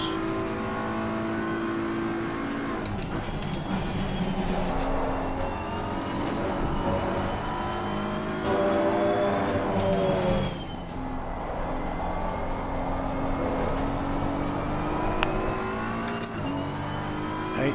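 Porsche race car engine screaming during a race, loud and continuous, with repeated revving, upshifts and gear changes as it accelerates.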